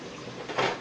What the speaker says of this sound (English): then you can pour more water inside it to thin it out